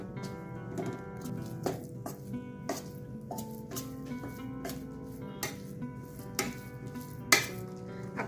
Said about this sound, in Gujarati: ઘી ગરમ થઈ ગયું છે, હવે આપણે તેમાં લોટ એડ કરશું। આ રીતે બધું મિક્સ કરવાનું।